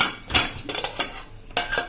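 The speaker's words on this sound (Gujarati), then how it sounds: "તો આપણે કુકર ખોલી લઈએ" Pressure cooker lid opened on Kathiyawadi cluster bean curry, with several sharp metallic clinks and scrapes of utensils in quick succession, close and loud without any talking.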